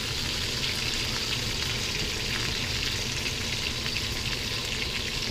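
A ribeye steak fries in a pan, its sizzle steady and close. The broad crackling hiss holds at a constant level throughout, with no voices.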